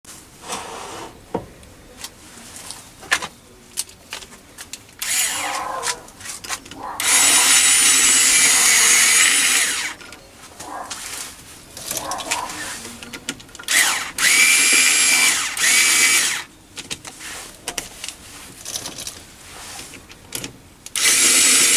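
Cordless electronic screwdriver driving a lathe chuck key in a four-jaw chuck, whirring in several loud bursts of a few seconds each, separated by quieter gaps with clicks and handling noise.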